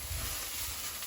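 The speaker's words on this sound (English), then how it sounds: "Now, it's starting to sizzle now." Homemade saucy burgers sizzle on a grill, giving a close, dense hiss and crackle that runs steadily through a brief moment with no talk.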